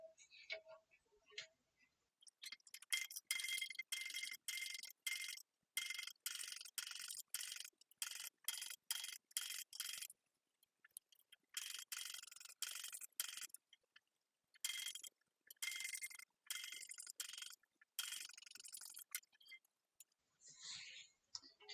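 A sewing machine stitches a glow-in-the-dark ghost backpack in a quiet room, running in rapid mechanical bursts of clicking needle strokes with short pauses between seams.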